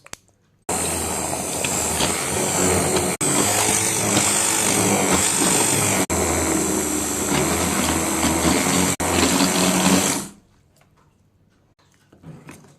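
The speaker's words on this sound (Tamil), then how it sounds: "நான் இந்த பிளெண்டர் போட்டுக்கிறேன்" A blender churns fenugreek leaf curry in a loud, continuous whir that dips briefly a few times, runs for about ten seconds and then cuts off into quiet.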